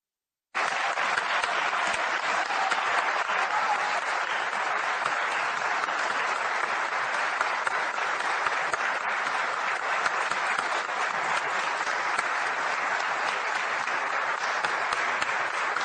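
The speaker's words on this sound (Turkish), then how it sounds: "genel kurulda bulunan tüm vekiller ayakta alkışladı" Turkish parliament members at the Grand National Assembly (TBMM) general assembly rise for a standing ovation, a dense, steady roar of applause filling the chamber from start to finish with no talk over it.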